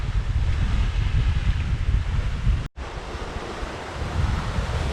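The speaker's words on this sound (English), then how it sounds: "Deck's getting a bit of a wash." Aboard a Hallberg-Rassy 54 sailboat banging through the Gulf Stream at 10 knots, seawater washes over the wet foredeck amid constant rushing wind and surf, loud and continuous with one sudden brief dropout midway.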